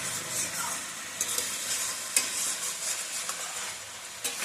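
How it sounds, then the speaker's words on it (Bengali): Cauliflower and potato sautéing in a pan, a steady bright sizzle with occasional soft clicks and scrapes of a stirring utensil, close and continuous with no voices. "তো তার জন্য এই যে ফুলকপি আলুটা কষানো হচ্ছে।"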